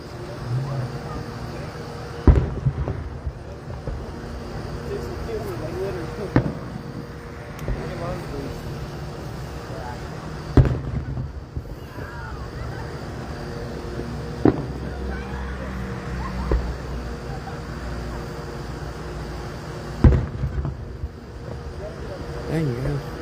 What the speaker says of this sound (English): I think this one's got the fireworks back there beat by a long shot.